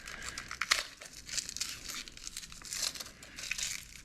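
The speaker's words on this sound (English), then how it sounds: "Tough exterior, so we're going to go ahead and peel that off." Dry, papery outer layers are peeled off a shallot in a kitchen, giving close crinkling and light tearing rustles in uneven bursts, with no talking.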